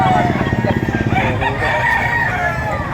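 A ten-month-old rooster crows loudly and close at hand, one drawn-out call rising over a pulsing, clucking undertone of other fowl nearby.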